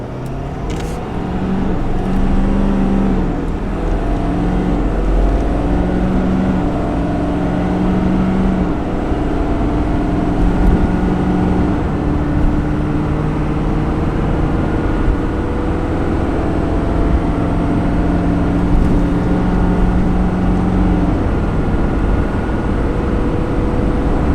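A 2021 Ford F450 Platinum pickup towing a 14k fifth wheel up a 6% grade, its engine droning loud and steady inside the cab, with shifting tones as it pulls uphill, no talking.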